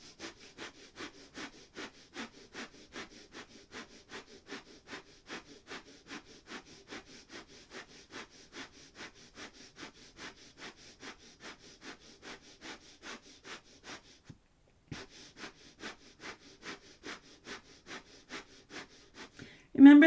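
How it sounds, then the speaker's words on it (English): Rapid, rhythmic breath-of-fire breathing pumped through the nose during a kundalini yoga kriya, a steady train of quick sniffing pulses that continues for most of the stretch, breaks off briefly, then resumes. "Remember that breath of fire is done through the navel."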